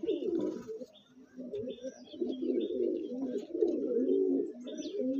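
A pair of Andhra pigeons coo close by, with repeated soft throaty rolling calls and a few higher chirps mixed in, and a brief lull near the start.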